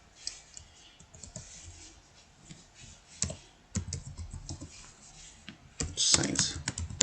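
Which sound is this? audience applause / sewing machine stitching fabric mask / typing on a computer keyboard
typing on a computer keyboard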